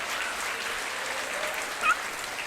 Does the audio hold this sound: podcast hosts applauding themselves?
yes